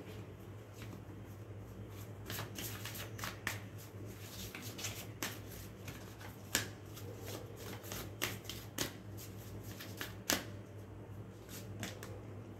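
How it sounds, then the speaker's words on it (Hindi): Playing cards from a tarot-style reading deck are shuffled and one is drawn, giving soft repeated riffling and flicking clicks with a few sharper snaps, close and quiet, with no talk. "ये चलिए यहाँ पर एक कार्ड इस डेक से लेते हैं"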